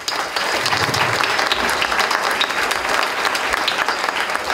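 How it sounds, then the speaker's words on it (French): Audience applause at a fundraising support evening, a dense, loud and sustained burst of many hands clapping for several seconds with no talk over it. "Donc c'est Jérôme qu'on peut applaudir."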